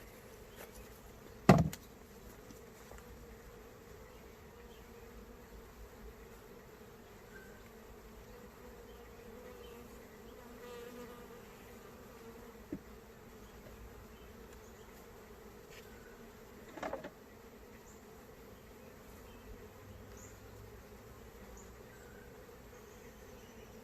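Honeybees at an open hive during an inspection give a faint, steady low hum with a few brief knocks, and nobody talks over it.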